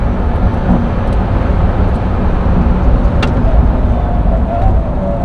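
A Rimac Nevera electric hypercar at full throttle on the Nürburgring, a loud dense roar of wind and road rumble with a rising motor whine, heard steadily from inside the cabin.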